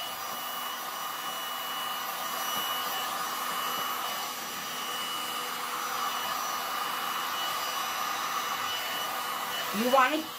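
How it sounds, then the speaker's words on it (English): A heat gun blows steadily over resin art, a continuous broadband whoosh holding at an even level for about ten seconds, with a brief rise and change in pitch near the end. "You want to get about an inch away from the surface and keep moving the heat gun"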